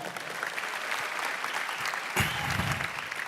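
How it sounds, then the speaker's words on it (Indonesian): Audience applause at a foreign policy conference, a dense steady clapping from a large crowd in a hall, swelling briefly with a louder burst partway through. "Tepuk tangan untuk FPCI."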